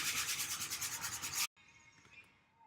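Rhythmic back-and-forth strokes of hand sanding along the grain of wooden furniture, loud and close, stop abruptly partway through and leave only faint room noise.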